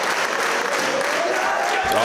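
Wrestling crowd at a Deadlock Pro event in the Carolinas cheering and applauding for Andrew Everett, a steady dense roar of clapping and voices filling the whole stretch at close, loud level.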